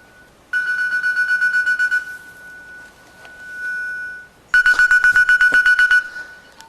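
A mobile phone ringtone goes off during an online teaching presentation. It plays two loud, close bursts of rapid trilling tones, separated by a short quieter pause.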